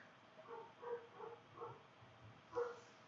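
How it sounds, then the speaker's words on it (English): A dog barks somewhere in a house, about six muffled, moderately distant woofs in an uneven rhythm, faint and alone with no talking. "My dog appears to be barking"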